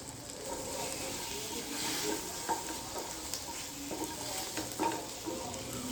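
Fenugreek seeds, cashews and coconut frying lightly in a pan give a soft, steady sizzle, with occasional scrapes and taps of a stirring spoon rising above it.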